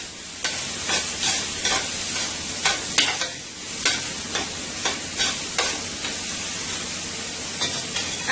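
Guyanese-style mixed chow mein with three meats and vegetables frying in a pan as sauce goes in, giving a steady close sizzle broken by repeated scraping stir strokes, with no talking.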